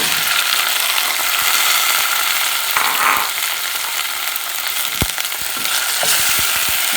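Tomatoes frying in a pan for a cabbage stir fry, a loud steady sizzle running throughout with occasional sharper clicks and scrapes of stirring.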